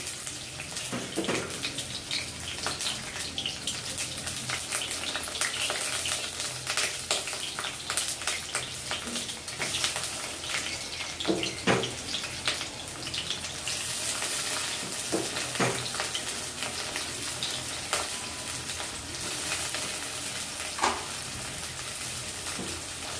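Sliced onions fry in hot mustard oil in a wok for chicken biryani, a steady close sizzle punctuated by intermittent scraping and stirring clatter.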